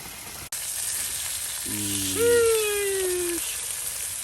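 Brats sizzle and fry on a griddle out on the ice in extreme weather, a steady close hiss with a short whining tone rising and trailing off partway through.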